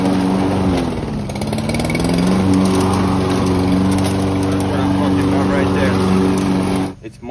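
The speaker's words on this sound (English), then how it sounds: "why your lawnmower could be stalling and not easy to start, choking, or it's basically choking while you're mowing the grass" A Toro lawn mower engine running loud and steady close by, its note dipping and wavering as it chokes and struggles, with a voice talking over it before it cuts off near the end.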